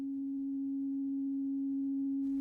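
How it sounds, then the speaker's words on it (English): Steady pure tone piped through headphones to a person under sensory deprivation, a single unwavering sine note holding constant and clean for the whole stretch, with a faint hiss creeping in at the very end. "Her only external stimulus comes from tones in her headphones."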